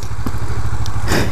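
2011 Kawasaki Ninja 650 motorcycle engine idling close by, a loud, steady low pulsing throb with light clatter and a brief burst of wind or rustle near the end.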